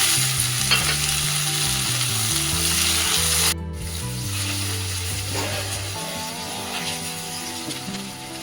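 Onion sizzling in hot oil with cumin, bay leaf and dried chilli, a steady broadband frying hiss with stirring scrapes, while a tonal musical background plays underneath throughout.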